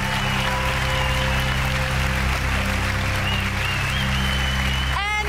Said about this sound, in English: So please welcome me with a huge round of applause.